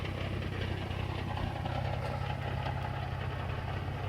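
A Nissan 350Z sits idling, its engine giving a steady, low, even rumble throughout with no one talking.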